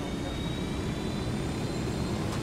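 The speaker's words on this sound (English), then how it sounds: "Coming in a helicopter." Helicopter approaching in the video game Ghost Recon Wildlands, a steady loud rotor and engine roar filling the scene without letup.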